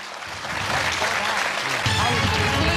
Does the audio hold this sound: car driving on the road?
no